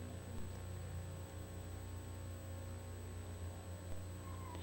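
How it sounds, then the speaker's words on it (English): A cat meowing faintly over a steady, noisy hum, with a short upward-sliding call near the end and no talking. "That's a cat up a tree"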